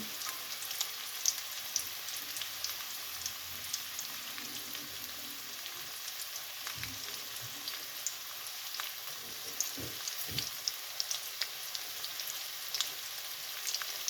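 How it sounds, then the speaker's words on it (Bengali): Chopped garlic sizzling in hot oil for a potato and fenugreek-leaf bhaji: a faint, steady crackling fry with occasional small pops and soft stirring bumps, no voices. "দিয়ে দিচ্ছি রসুন কুচি"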